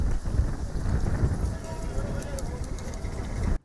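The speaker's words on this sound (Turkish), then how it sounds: "beklenen o yağmur günler sonra geldi" Steady heavy rain in Antalya, Turkey hisses continuously, a dense wash of falling water with faint rumbling underneath, ending abruptly.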